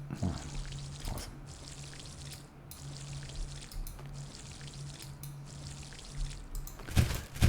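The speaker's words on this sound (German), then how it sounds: "Gießen." Plants watered in the video game Green Project give a continuous soft splashing and hissing water stream with a faint low hum underneath, moderately loud and steady, ending in a brief louder burst.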